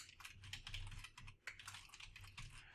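Rapid, steady typing on a computer keyboard while personal details are entered, dense clicking keystrokes close by with one brief pause, no voices.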